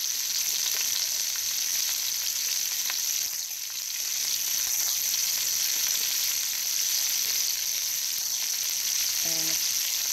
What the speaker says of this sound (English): I'm going to throw in my onion, my mushroom, a little bit more butter